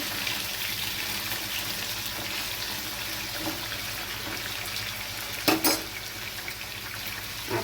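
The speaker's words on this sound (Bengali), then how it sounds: "পেঁপেটা একটু নেড়ে নিচ্ছি" A steady, soft sizzle of papaya frying in a pan, with a spatula clinking against the metal once partway through.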